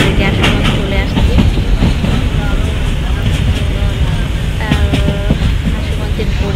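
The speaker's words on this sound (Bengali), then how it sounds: "আপনারা দেখতেই পাচ্ছেন আমার ট্রেন চলন্ত অলরেডি আসলে চলে আসছে।" A moving passenger train on a route approaching Bhairab station, recorded from on board: a loud, continuous rumble with rhythmic wheel clatter and metallic squeals, with voices blending into the noise.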